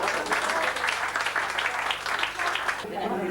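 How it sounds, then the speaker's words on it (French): Steady crowd applause, dense clapping sustained for a few seconds, with a voice faintly under it near the end. "nos amis qui nous demandent d'applaudir"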